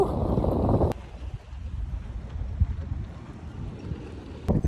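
Steady low rumbling wind buffets the microphone, gusting loudly at first then settling into a continuous outdoor roar.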